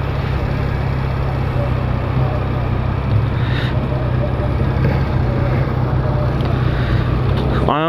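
A motorcycle cruising on a freeway, vibrating badly, gives a steady, loud roar of engine and wind-blown road noise that holds unbroken from start to finish.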